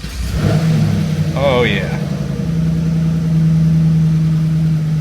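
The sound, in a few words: Pontiac car engine starting and idling with slight misfire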